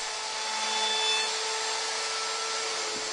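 Router fitted with a 1/4 inch round-over bit shaping the bottom edges of wooden apron rails for a children's table, a steady high-pitched whine held evenly throughout, close and alone.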